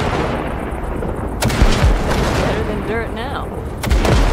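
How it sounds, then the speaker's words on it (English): The Basilisk's weapon system fires on wrecks in Cyberpunk 2077, sharp heavy blasts set over a rumbling engine and whirring machinery, close and loud, with a brief spoken line in between. "All right, blast those wrecks."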